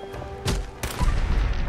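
Gunfire in the video game Fallout 4: a couple of sharp, loud shots with booming tails, alone without talk.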